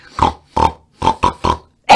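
Six short grunting oinks in an uneven sequence, loud and close, with brief silences between them.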